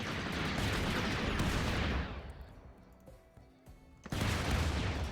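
Heavy gunfire and explosions in RimWorld with a Star Wars clones-versus-droids mod: a loud dense barrage that drops to a thinner patter, then bursts back in full force.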